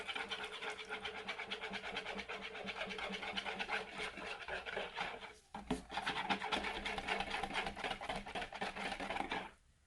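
Soap batter with floral fragrance being whisked by hand at room temperature, a continuous scraping rasp with a rapid steady rhythm, close and fairly loud, briefly pausing partway before resuming.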